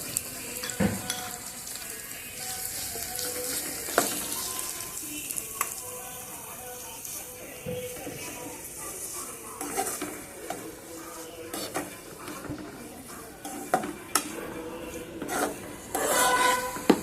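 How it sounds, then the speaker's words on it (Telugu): Thinly sliced onions fry in a pan for an Andhra egg curry, giving a steady soft sizzle with repeated scraping and clinks as a spoon stirs them now and then, alone without talk. "మధ్య మధ్యలో కలియ తిప్పుతూ ఉల్లిపాయల్ని దోరగా వేయించుకోవాలి."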